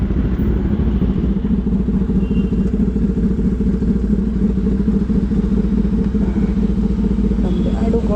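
A Kawasaki ZX10R motorcycle, started after three months of sitting, runs with a steady, loud, close engine note and a low, even throb that lasts throughout.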